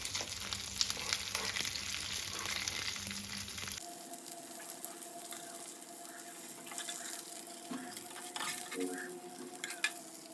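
Grass carp pieces frying in a pan crackle with a dense sizzle that drops abruptly to a quieter, steadier hiss as they are lifted out one by one, with faint clinks of utensils.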